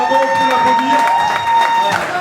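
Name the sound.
audience applause and cheering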